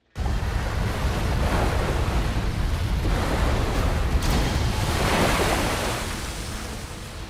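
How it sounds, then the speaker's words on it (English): Waves pound the inside of an underground cavern in a loud, continuous roar. The turbulent wash swells and surges throughout, with no voices. "multiple waves batter the inside of the cavern"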